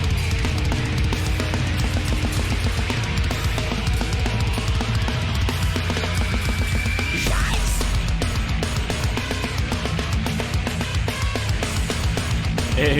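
Nu metal track plays with dense, heavily distorted guitars, pounding drums and driving low end throughout, loud and continuous with no talking over it.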